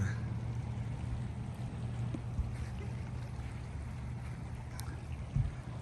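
A steady, soft rush of water from Kings Creek, a babbling brook in Lassen Volcanic National Park, flows without a break, with a few faint knocks and a brief rustle near the end.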